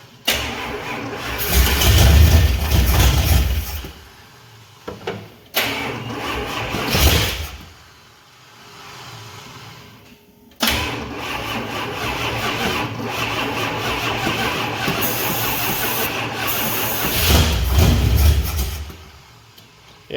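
A truck engine with no fuel cranks repeatedly without catching, loud starter-motor whirring in several long bursts separated by short pauses, with no voices.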